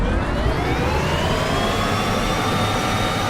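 A heavy freight locomotive in Derail Valley backs up a 2400-ton train, giving a loud, steady engine drone with a slowly rising whine above a deep rumble.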